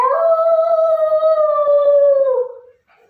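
A human voice imitates a jackal's howl in a single sustained, wavering wail lasting over two seconds, loud and close, then sliding down and breaking off into silence.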